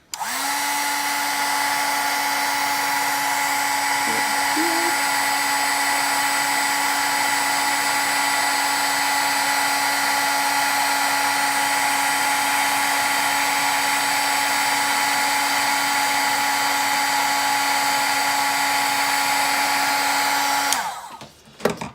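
A heat tool blows a steady, loud hum with a constant whine for about twenty seconds while heat-embossing Versamark ink on a matte photo, then switches off with a short rattle at the end.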